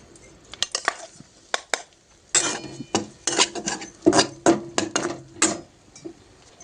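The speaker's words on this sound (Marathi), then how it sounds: "शेंगदाण्याचं कूट भाजता वेळेस एकदम मंद आचेवर भाजायचा" A spoon or spatula scrapes and clinks against a kadhai while peanut powder roasts over low heat with a little ghee, producing irregular close metallic scrapes and taps in quick bursts with short pauses.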